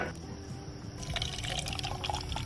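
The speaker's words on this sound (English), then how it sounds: "I poured that out perfect" Heated almond milk pours from a skillet into a baby bottle in a close, soft liquid trickle and splash, becoming brighter and gurgling as the bottle fills, with no talk over it.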